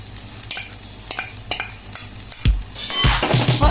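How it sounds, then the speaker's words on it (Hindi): Green masala is stirred into palak paneer in a hot pan: repeated scraping strokes of a spoon against the pan over a soft sizzle, close and clear, with the frying growing louder toward the end and no one talking. "और इसे अच्छी तरह से मिक्स कर लेंगे।"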